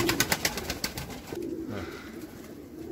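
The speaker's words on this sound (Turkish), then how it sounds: "Burada uçmuş görevini yapmış kuşlar." Pigeons coo and flutter close by in a coop, with a burst of quick wingbeats or scuffling at the start, then softer cooing over quiet background noise.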